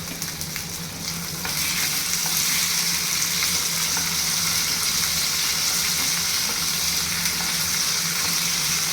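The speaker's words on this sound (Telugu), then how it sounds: "పచ్చిమిర్చి వేసి బాగా వేయించుకోవాలి" Green chillies and tomatoes fry in a pan for a tomato chutney served with idli and dosa. A loud, steady sizzle swells after the first second and keeps going evenly, with no voices.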